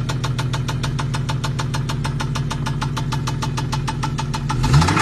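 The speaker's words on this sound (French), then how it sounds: "il y a un bruit moteur. Il y a un vrai bruit de clac-clac." A 4x4 fitted with a BMW engine runs at a steady idle with a loud, rapid, regular clacking knock repeating throughout, close by.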